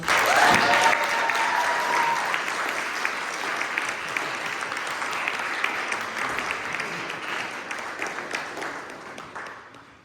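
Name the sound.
audience applause for performers at ceremony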